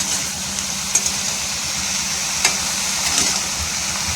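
Mixed vegetables frying in a pan in a home kitchen, a steady hiss and sizzle throughout with a few light clinks of utensils, no voices.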